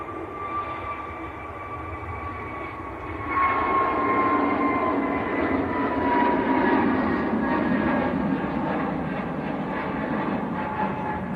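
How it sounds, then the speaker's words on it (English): An easyJet airliner bound for Sharm el Sheikh rolls for takeoff on the Manchester Airport runway, its jet engines a broad roar that swells a few seconds in and holds loud and steady at a distance. "EasyJet on the roll."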